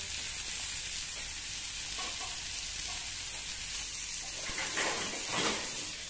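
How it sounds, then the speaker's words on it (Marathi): Bitter gourd fries in a little oil over a low flame, giving a steady soft sizzle with occasional spatula stirs and scrapes, close and moderately quiet, with no talking. "स्लो मीडियम गॅस करून तुम्ही याला मंद आचेवर या कारल्याला शिजू द्यायचं आहे"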